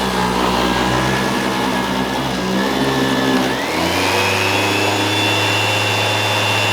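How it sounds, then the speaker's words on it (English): A central vacuum cleaner with a power head runs steadily indoors while a living room is vacuumed, a loud continuous whine and hum that drops and shifts pitch partway through, close and alone. "Let's see if I just run it for a bit and vacuum the living room"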